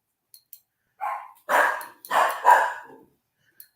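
Dogs barking indoors in a short cluster of loud, close barks over about two seconds, with a couple of faint clicks before and after and no talk.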